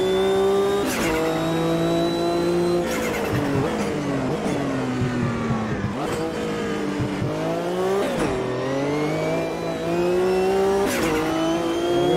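Sportscars racing in the video game Automobilista 2, a loud engine revving up through the gears with sharp shift breaks and repeated deceleration dips, continuous and close.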